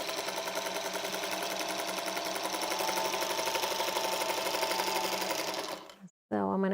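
A sewing machine runs a quarter-inch seam on a quilt block, a fast steady mechanical whir close up that slows and stops near the end, with a voice briefly heard after it.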